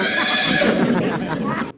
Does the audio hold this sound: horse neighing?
yes